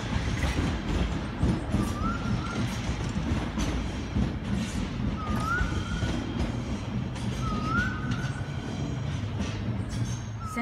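A Sydney Waratah electric train departs Hornsby station, its steady rolling rumble and wheel clatter filling the platform, with a few brief rising electric motor whines drifting through the continuous noise.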